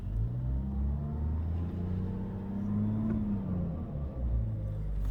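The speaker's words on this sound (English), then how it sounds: "I don't know if you can hear it idling, but it's idling now" A 3.0 Duramax diesel truck engine with an S&B cold air intake idles with a low, steady rumble, heard from inside the cab, the pitch rising and falling slightly.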